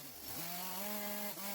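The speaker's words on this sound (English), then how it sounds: "He says turn the chainsaw upside down." Chainsaw held upside down while carving feather detail into a wooden owl, the engine droning steadily at a high rev with a brief dip in pitch near the start and another toward the end.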